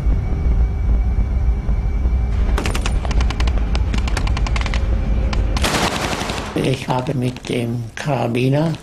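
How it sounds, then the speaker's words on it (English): Wartime machine guns firing in crossfire from cliff positions over a D-Day beach landing, long rapid bursts of gunfire over a steady low rumble, followed by someone speaking. "The machine gun just opened up."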